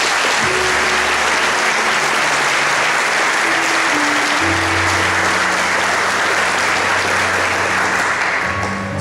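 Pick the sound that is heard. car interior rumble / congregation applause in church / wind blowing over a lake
congregation applause in church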